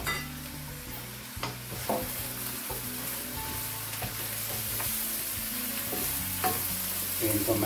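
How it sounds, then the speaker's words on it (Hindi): Rice is stirred into meat and beans in a pot, a spoon scraping and knocking in repeated strokes over a steady sizzle, close and moderately loud with no talking. "मैं चावल मिक्स करूँगा।"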